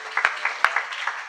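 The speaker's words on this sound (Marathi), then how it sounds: "शाबास, टाळी वाजवा त्याच्याकरता एकदा" A kirtan audience gives a brief round of clapping, a few sharp claps standing out over softer, sparse patter in a short, quiet burst.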